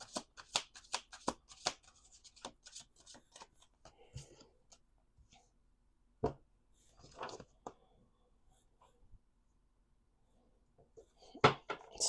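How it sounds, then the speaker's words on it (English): Cards are shuffled in quick riffling bursts, each flurry of rapid flicks followed by quieter taps and pauses, close and fairly soft. "Let's do 2 more shuffles."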